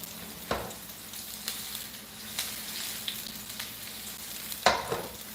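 Jalapenos sizzle steadily as they fry in a hot pan, a constant crackling hiss broken by a few stirring clatters, close and with no voices.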